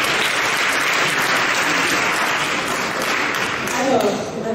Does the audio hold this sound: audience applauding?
yes